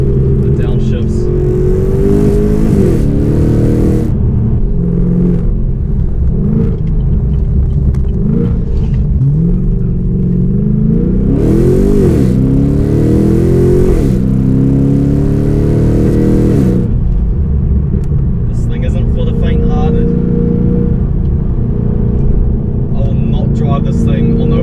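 A 430kW VF2 Redline car downshifts and revs hard, its engine note rising and falling in repeated loud blips close by, with a voice talking over the engine throughout.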